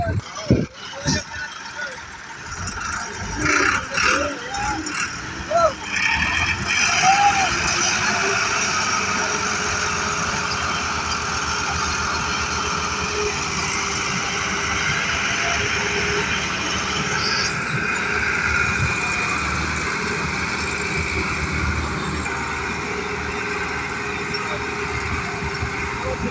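Four tractors, two pulling in front and two pushing behind, strain to move a heavy trolley loaded with maize fodder in a village. Their engines drone loudly and continuously under intermittent talk and background shouting.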